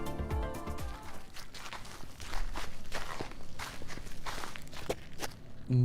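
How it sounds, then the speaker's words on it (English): Footsteps of around ten people walking together through a deserted wasteland in the Girl's Frontline 2 video game, a continuous crunching, overlapping tread at close range with no talk. "It's the sound of footsteps, or to be precise, the sound of 10 odd people walking together through this deserted wasteland."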